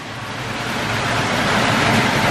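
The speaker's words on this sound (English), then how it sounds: "Got a lot of hail, up to half a dollar size, or hail driven wind, which was absolutely insane." Inside a Texas tornado storm, wind and hail up to half-dollar size roar as a dense, rising wash of noise that grows steadily louder.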